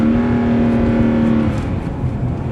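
A Subaru Tribeca engine hums loudly at a steady pitch from close inside the car, then the tone drops and shifts as the gear changes.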